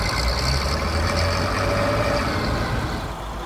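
An Andoria engine on a freshly painted Bizon combine harvester runs loud and close in winter, its steady low rumble holding for several seconds before easing slightly at the end.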